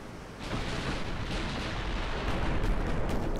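The battleship USS Maryland fires its main guns in Ultimate Admiral: Dreadnoughts, a dense continuous roar of heavy gunfire and rumbling booms that swells slightly and stays loud throughout.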